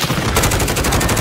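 Rapid automatic gunfire in the video game Call of Duty: Modern Warfare, a loud burst of closely spaced shots rattling in quick rhythm.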